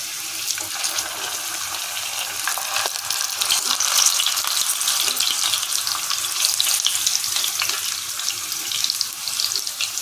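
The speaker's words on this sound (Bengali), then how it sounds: "ভালো করে এগুলো ভেজে নেব" Potatoes frying in oil in a pan for stuffed aloo dum give a steady, bright sizzle that holds fairly loud throughout, with no voices and a few small crackles scattered through it.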